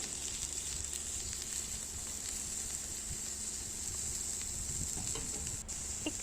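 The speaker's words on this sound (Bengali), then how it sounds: "প্রথমে তেল গরম হলে কড়াতে টমেটোটাকে এরকমভাবে কেটে হালকা করে ভেজে নেব" Sliced tomato fries in hot oil in a wok, giving a steady close sizzle and hiss with faint stirring clatter, heard alone without talk.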